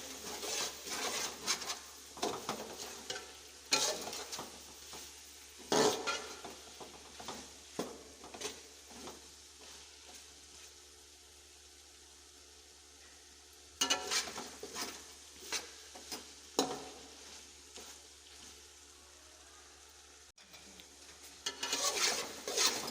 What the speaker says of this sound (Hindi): एक दो मिनट के लिए इन्हें भून लेंगे।